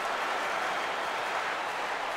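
A baseball crowd in MLB The Show 15 cheers and roars steadily for a full count with the bases loaded, a dense, even wash of stadium noise.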